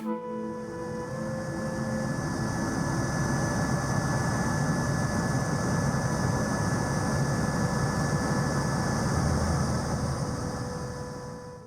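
Steady loud rotor and engine roar of a helicopter in flight over Réunion, continuous and close throughout with no pauses.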